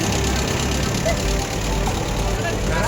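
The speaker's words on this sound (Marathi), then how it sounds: "नागपूर येथील पर्यटक ट्रॅक्टर रेल्वेचा आनंद घेताना" A tractor pulling a tourist train ride at an agritourism farm gives a steady, loud, close engine drone with a knocking low rumble, and voices can be heard faintly alongside it.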